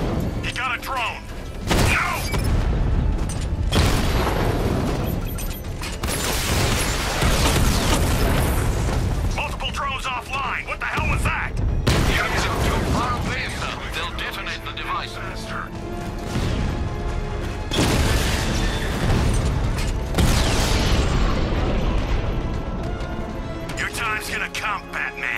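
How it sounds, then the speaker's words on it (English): Heavy booming explosions from a bomb payload in Batman: Arkham Knight, several deep blasts and crashing bursts with mechanical clatter spread across the stretch, with game character voices talking over them. "The bomb's payload is exploding."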